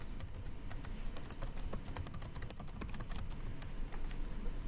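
Rapid, uneven keystrokes tap on a computer keyboard during school data entry, a quiet, close clatter of many small clicks continuing throughout.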